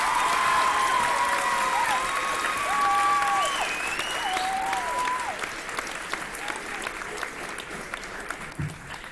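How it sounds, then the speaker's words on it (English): Audience at a middle school promotion ceremony gives a sustained round of applause, dense and steady at first and thinning toward the end, with a few tonal whistles or voices rising over the clapping. "another big round of applause"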